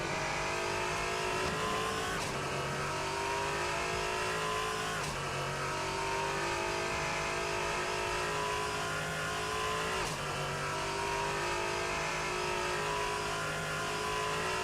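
Race car engine in the Assetto Corsa sim racing game during a Low Fuel Motorsports Christmas race, loud and continuous, revving up and down through gear changes with occasional tire squeal, no voices.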